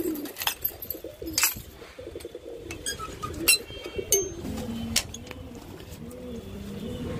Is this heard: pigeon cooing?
yes